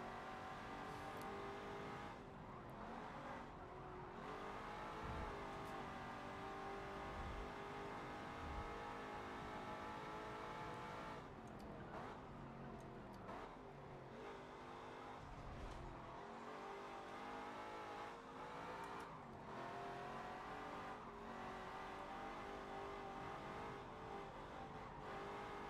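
Cars roar around a lap in a Forza racing video game, engines revving and shifting through gears with rising and falling pitch, a continuous loud drone with occasional tire squeal.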